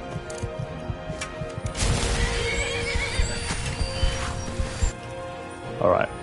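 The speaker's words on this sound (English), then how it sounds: "The horse is attacking something." Hooves clatter and a horse neighs through a noisy scuffle in the video game Skyrim, with a sharp whinny near the end and a voice talking over the action.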